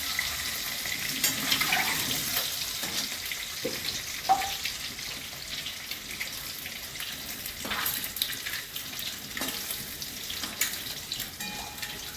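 Eggs frying in a pan give a low, steady sizzle, broken by a few clinks and scraping sounds from a utensil.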